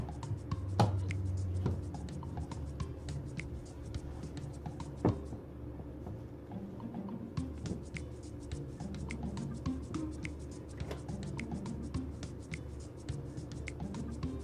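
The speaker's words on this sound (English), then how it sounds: "I'm going to scrape down the sides again" A spatula scrapes around the sides of a bowl of buttercream, giving soft, repeated scratching and rubbing strokes with a brief lull partway through, close and quiet.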